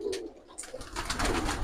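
A Chinese teddy pigeon gives a brief, low, throaty coo up close, followed by a rustle and a broader fluttering noise.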